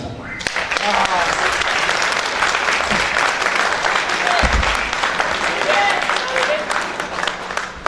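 At a political meeting in Paris, the crowd gives loud, sustained applause for Ndeye Amy Sidibé, dense clapping mixed with cheers, shouts and crowd voices, staying strong throughout.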